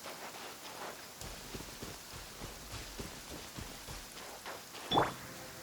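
Steady rain falls throughout a Genshin Impact game scene, a soft continuous patter with a brief sharper chime-like sound near the end.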